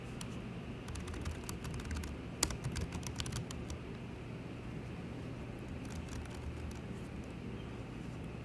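Quick, uneven clicks of typing on a computer keyboard come in bursts over a steady low hum, close and fairly quiet, with no voices.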